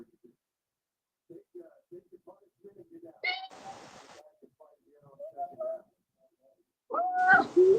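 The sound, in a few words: cat meowing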